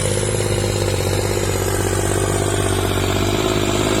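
A heavy Kubota L3608 tractor engine drones steadily at close range, a constant low rumble with a rattling throb and no change in pace.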